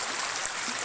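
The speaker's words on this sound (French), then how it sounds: "pars en nature, trouve une rivière, trouve un cours d'eau et laisse parler le ressenti" A river stream flowing outdoors in nature makes a steady, close rush of water, a broad, even wash with no pauses and no voices.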